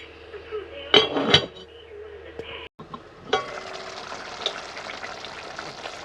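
Chopped tomato added to a hot pan, giving a brief loud clatter and sizzle followed by a steady, softer frying hiss that continues under faint background sound.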